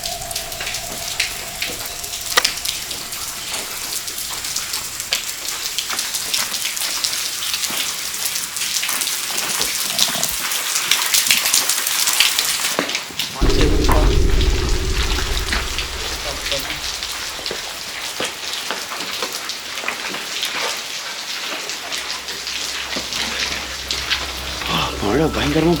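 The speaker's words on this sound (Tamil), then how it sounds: "மழை பயங்கரமா பெய்யுது." Heavy rain pours down at night around an apartment building, a dense continuous hiss of drops on surfaces, with a sudden shift in tone partway through and a low hum underneath.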